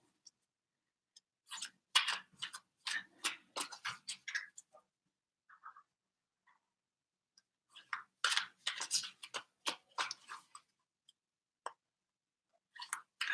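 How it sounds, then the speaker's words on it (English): Tarot cards are shuffled in repeated quick riffling bursts, close and crisp, separated by short pauses, with no talking. "Oh, wow. That's a lot of shuffling."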